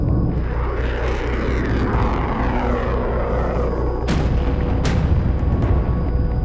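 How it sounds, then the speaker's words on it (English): Bombings and missile strikes on peaceful towns and villages in war-torn Ukraine: a dense, continuous roar of distant blasts and rumbling, with two sharp, loud explosive cracks standing out near the end. "Bombings and missile strikes on peaceful towns and villages."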